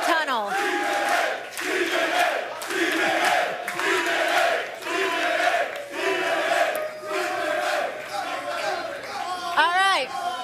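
A hyped studio audience on a live sports talk show cheers and shouts loudly and continuously, with rhythmic swells of voices and whoops throughout.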